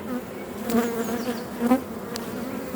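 Honeybees crowding a brood frame from a hive, a close steady buzzing hum with individual bees droning past, no talking.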